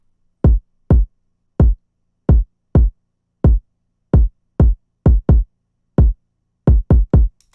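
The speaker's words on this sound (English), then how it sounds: "lastly it is the kick, which just follows the 808 pattern with a couple of different notes taken out and a couple added in." Punchy kick drum hits in a trap-style beat, spaced in an uneven syncopated pattern that follows the 808 bass line, each thump short and booming, loud and isolated with silence between hits.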